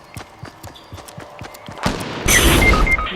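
Gunfire in the battle royale game Fortnite, a burst of rapid shots swelling from faint pops into loud, dense close-range fire in the final second.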